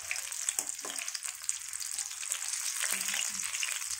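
Eggplant bajji fritters crackle and sizzle in hot oil, a continuous close frying hiss with occasional louder pops and a few soft utensil knocks.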